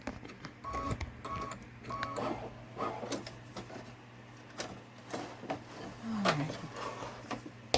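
Two-tone beeps from a Babylock Solaris Vision embroidery machine alert, repeating in short bursts over quiet mechanical clicks and handling noise, fairly faint and close by.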